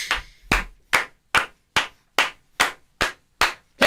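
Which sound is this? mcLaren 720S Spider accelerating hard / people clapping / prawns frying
people clapping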